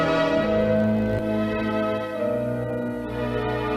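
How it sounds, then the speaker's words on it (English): A church bell tolls, its deep ringing strike hanging in a long, humming decay that fills the space with no voices. "Who'll toll the bell?"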